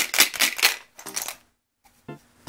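Yahtzee dice from a 1998 set rattling and clattering inside the cup in several loud, close shakes, then a brief pause and a final rattle.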